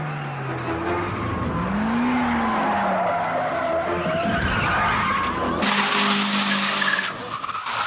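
Mitsubishi stunt cars skidding and spinning, with long loud tire squeals and engine revving close by, ending in a harsh grinding screech.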